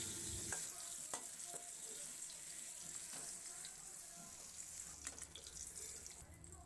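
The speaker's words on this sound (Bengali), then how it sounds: "পটলের যে মুখগুলো কেটে রেখেছিলাম সেগুলো এবার দিয়ে ভেজে তুলে নেব।" Pointed gourd caps frying in hot oil, a continuous dense sizzle with a few sharp clicks and scrapes, moderately close.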